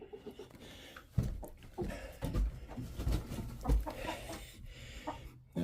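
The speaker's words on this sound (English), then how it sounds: "You're a rooster. What are you doing on the laying station?" A rooster clucks softly while perched on a hen laying station, a few low clucks and rustles rising above quiet barn ambience.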